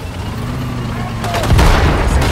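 Gunfire bursts in the WWII strategy game Sudden Strike 4 during the Allied Normandy invasion mission. Rapid cracks arrive midway over a steady low rumble of vehicles, with game unit voice lines calling out orders.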